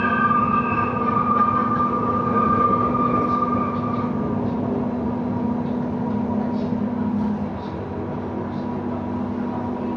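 A light rail train in Palembang gives a steady, loud rumble with a sustained tonal hum that drops slightly in level toward the end, heard from inside the car with no talk.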